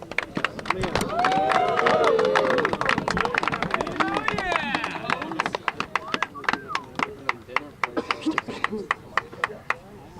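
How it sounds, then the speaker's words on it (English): Long applause from a team gathering for two scout players of the week, starting as a loud crowd burst with voices and cheers mixed in, then thinning to scattered individual claps that trail off near the end. "You got a really long clap there"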